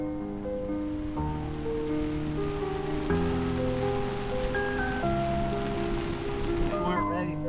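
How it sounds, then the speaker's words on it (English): Steady rush of 32–33 knot wind and rain over the sea around a boat, a constant dense wash with a droning tone beneath it. "there's that much wind and rain."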